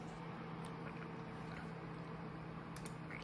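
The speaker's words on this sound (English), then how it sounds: "The fans are just starting to ramp up a little bit more now, which is the loudest I've heard it go" Cooling fans in an Alienware Aurora R13 gaming PC whir as a steady, quiet hum with a low tonal drone, slightly rising, with no voices.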